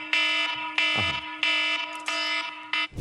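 A loud electronic alarm played from a phone beeps in repeated long pulses, shrill and tonal, with short gaps between blasts and a thud near the end.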